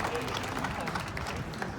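Outdoor audience applauding at a street show on Main Street in Deadwood, South Dakota, a dense, steady patter of clapping heard fairly faintly and without pause.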